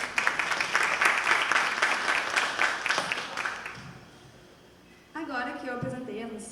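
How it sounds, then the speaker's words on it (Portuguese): An audience claps loudly for a few seconds, the applause fading out before a voice begins speaking near the end. "Palmas para a Tatiana."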